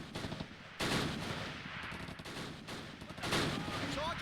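Dense gunfire from infantry weapons and machine guns in Close Combat Last Stand Arnhem, a World War II battle at Arnhem Bridge, rattling in rapid overlapping bursts at moderate volume.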